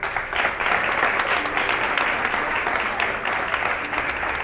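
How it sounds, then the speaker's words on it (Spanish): Loud applause from the audience at a graduation ceremony for a high school bachelor's class, a dense sustained clapping that runs the whole stretch, with faint voices mixed in underneath. "Fuerte aplauso."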